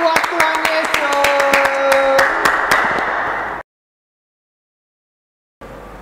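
Hand claps at an online children's church service ring out over a backing of music and singing for a few seconds, then cut abruptly to silence before faint sound resumes.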